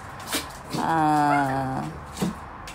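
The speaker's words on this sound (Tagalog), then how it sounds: "Ang ingay ng aso ko habang ako ay nagre-record." A nearby dog lets out a drawn-out whining howl between a couple of short, sharp yips.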